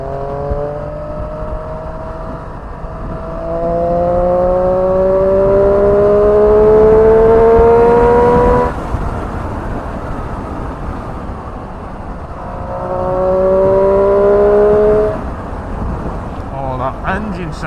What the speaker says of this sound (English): Engine sounds amazing, man.